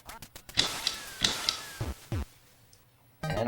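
Ducks quack in the NES Duck Hunt video game, several bursts of chiptune-style quacking mixed with game beeps and blips at moderate level, with no talk.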